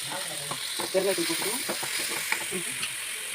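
Spices crackle and hiss in hot oil in a pan for brinjal kuzhambu, a continuous close sizzle with bursts of stirring scrapes.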